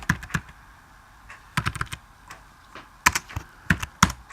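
Code being typed on a computer keyboard in Xcode for a C++ structures tutorial; crisp key taps come in quick clusters separated by short pauses, close and clear with no talking.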